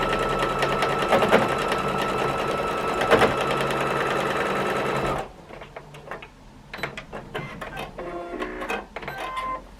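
A sewing machine stitches a quilt border in a steady, fast mechanical whir at close range, then slows into shorter bursts of stitching with pauses and small handling clicks.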